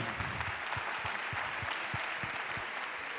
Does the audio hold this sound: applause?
yes